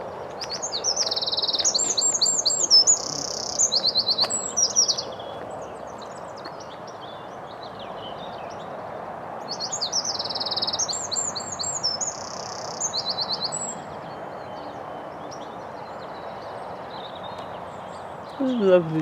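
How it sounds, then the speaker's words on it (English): A small bird sings repeated bright, rapid trilling phrases in two clear bursts with a pause between, nearby over soft outdoor background noise in summer. "That little bird is singing away"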